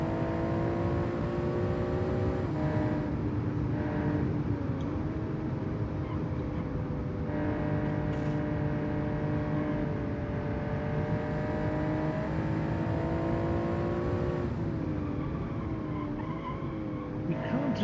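A large mid- or rear-mounted Boxer 6 engine in a racing video game car drones steadily at high revs, its pitch rising and dipping through gear changes and corners, with tire squeal throughout and no pauses.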